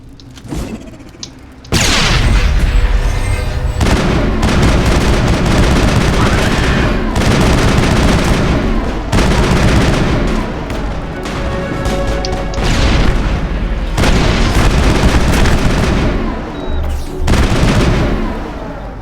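Mass Effect combat on Eden Prime: after a short quiet lead-in, loud continuous gunfire and booming explosions with metallic clatter fill the scene almost without a break, with occasional brief dips in intensity.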